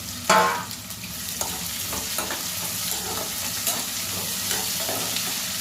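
Onions and chicken for spinach pulao frying in a pan, a steady close sizzle with a sharp burst at the start and a few stirring scrapes, no talking.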